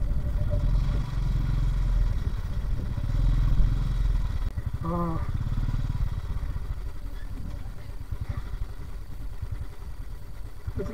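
A motorcycle rides through snowy mountain terrain near Sissu in Lahaul toward a helipad, its engine a steady close putter with some clatter, running throughout.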